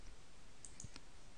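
A computer mouse gives a quick pair of faint clicks in a quiet room with a low hum behind it.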